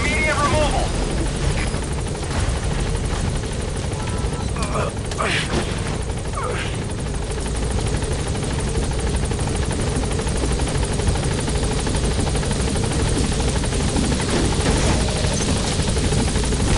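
The Pequod helicopter from Metal Gear Solid V hovers with a loud, steady rotor drone that fills the scene continuously, while a voice talks over it.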